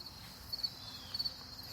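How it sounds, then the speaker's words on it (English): A faint, steady high-pitched cricket trill runs through a quiet night, with a couple of slightly louder pulses. "if y'all want to hear the crickets"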